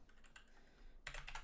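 Brief burst of typing on a computer keyboard while writing Roblox Studio script code, several quick close key clicks, quiet and without speech.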